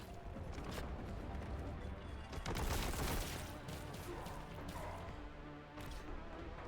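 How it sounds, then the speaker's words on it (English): Vengeance Launcher fire in Warhammer 40,000: Boltgun, a straight-line shot weapon, heard amid a steady roar of game combat with a heavy crashing burst near the middle. "Man, Vengeance Launcher is cool."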